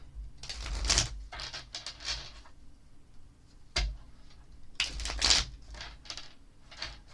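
Cards riffle and slap in quick bursts, close and crisp, with rapid papery flutters separated by brief pauses.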